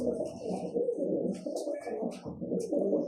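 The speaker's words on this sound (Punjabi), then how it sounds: "ਇਹ ਸਾਡੇ ਵੱਡੇ ਕਬੂਤਰ ਦਾ ਪੁੱਤ ਆ ਜੀ" Pigeon cooing, the young of a large breeding pigeon, a steady low rolling coo repeating close by through the whole stretch with faint chirps above.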